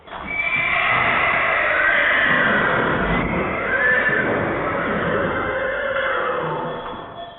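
Purebred Lusitano and Arabian stallions at a national cavalry stud neigh loudly and continuously, with long whinnies close at hand over the sound of hooves.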